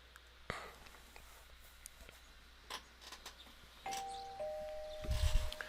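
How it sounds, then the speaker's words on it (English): A two-tone ding-dong doorbell chime from the video game Persona 4 Golden, ringing once clearly over a quiet background with a low thump at the end. "You hear the doorbell ringing."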